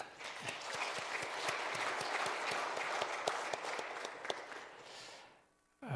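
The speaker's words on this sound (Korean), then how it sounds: "우리 박수 한번 치십시다." Church congregation clapping together during a Sunday worship service, a dense steady round of applause with sharp individual claps throughout, fading out near the end.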